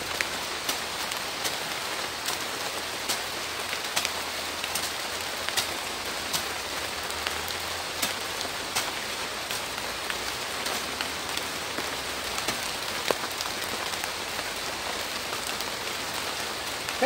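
Steady rain falls on a garden where bamboo is being planted, a dense, even patter of drops on soil and leaves lasting throughout, close and alone with no voices.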